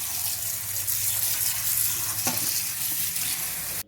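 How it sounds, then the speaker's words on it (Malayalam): Cold water pours over blanched spinach (palak) just drained off the stove, making a continuous rushing, splashing wash at fairly close range that cuts off abruptly at the end. "കുറച്ച് തണുത്ത വെള്ളം ഇതിന് മേലെ ഒഴിച്ച് കൊടുക്കാം."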